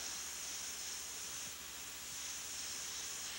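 An airbrush sprays a light mist of paint onto canvas, a steady, even hiss that runs unbroken from start to finish at a soft, close level.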